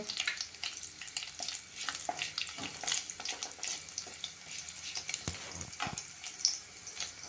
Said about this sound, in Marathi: बटर वितळलं आहे आता त्यामध्ये तमालपत्र घालते आहे